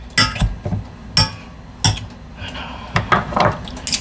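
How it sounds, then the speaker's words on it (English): Cooked potatoes are mashed in a pot with a plastic potato masher for Acadian poutine râpée. The masher gives several sharp clacking and scraping knocks against the pot, coming in irregular bursts at close range. "I'm just gotta make sure these are mashed up"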